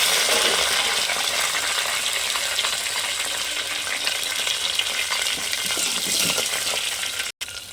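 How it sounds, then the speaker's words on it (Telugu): Curry leaves and crushed onion tempering in hot oil with a steady, dense crackling sizzle, close and loud throughout, ending in a brief cut. "ఇదిగో చూడండి, కరివేపాకు వేస్తున్నాను."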